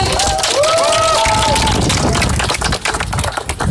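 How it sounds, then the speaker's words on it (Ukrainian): An audience at a Cossack games event applauds steadily for several seconds, a loud dense patter of clapping mixed with crowd noise and a brief voice at the start. "Ваші оплески."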